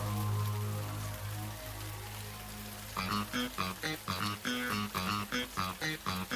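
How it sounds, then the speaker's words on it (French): Rain falling steadily in a continuous hiss, with a sustained low hum underneath and, later on, a rhythmic pulsing of music that partly covers it. "on dirait qu'il pleut de plus en plus"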